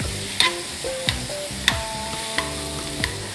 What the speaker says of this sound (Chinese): 將頭先我哋已經切好咗嘅tomato 番茄粒啦放曬落去，然後咧就係我哋爆炒佢